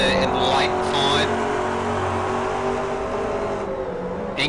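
McLaren race cars in a sim racing game roar steadily in a close battle, engine drone continuous with a faint higher whine, while a commentator talks over it.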